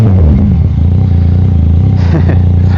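A Yamaha MT-09 motorcycle with category N written-off history idles with a steady low engine rumble close by, with a brief throttle blip partway through and faint clatter.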